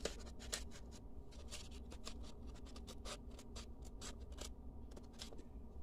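Scissors cutting paper up close for a miniature building model, a quiet series of crisp snips and rustling scratches in irregular rhythm.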